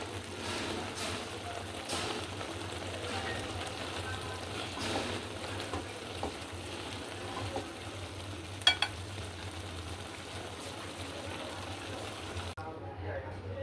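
Beef goes into a pot of boiling rice for beef tehari, with a steady close bubbling sizzle throughout and a brief clatter near the end.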